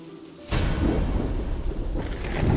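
Heavy rain and thunder: a loud, deep rumble bursts in after a quieter start and rolls on over a dense, steady roar of pouring rain, with no voices.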